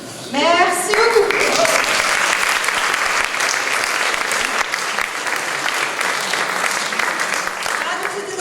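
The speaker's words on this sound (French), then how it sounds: "Merci d'applaudir Christophe, Yann, Alexandra," Sustained audience applause at a live performance event in France, a dense wash of clapping filling the room, loud and steady from start to finish with no talk over it.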